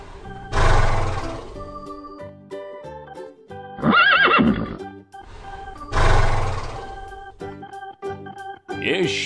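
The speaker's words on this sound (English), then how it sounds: "Horse." Two loud horse whinnies ring out a few seconds apart on a farm of show horses, each a long bright neigh, with a shorter whinny in between and a brief one at the very end; no one speaks.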